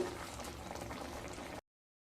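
Four medium unripe mangoes bubbling in a pot of water for chutney, a steady, close simmering gurgle that runs briefly and then stops abruptly.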